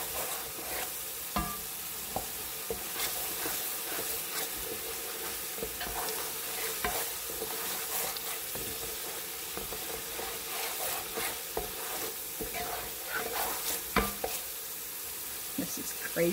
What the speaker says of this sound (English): I'm just gonna keep on mixing it